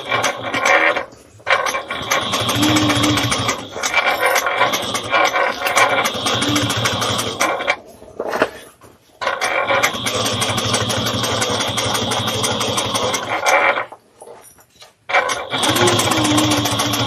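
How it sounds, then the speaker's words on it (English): A sewing machine runs in long steady bursts while stitching a bag seam about 1/8 inch from the edge, with brief pauses and quick backstitching, loud and close with no talking. "We're going to just stitch this down at 1/8 of an inch."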